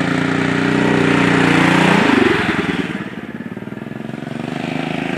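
A Yamaha TTR 125 dirt bike ridden by a learner runs loud and close, holding a steady drone before the engine note drops and pulses unevenly as it eases off, then builds again.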